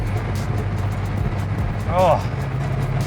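A 1972 Maserati Indy on the move, its engine a steady low drone with faint intermittent crackles from the exhaust, while someone speaks briefly close by over the running car.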